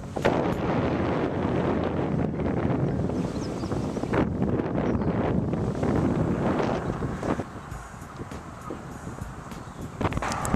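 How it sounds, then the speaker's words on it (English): Strong gusting wind on a rural Ohio road buffets the microphone in a loud, continuous roar that swells and eases. "Very windy."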